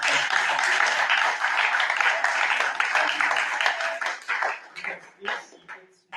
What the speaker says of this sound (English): ask for a great round of applause for all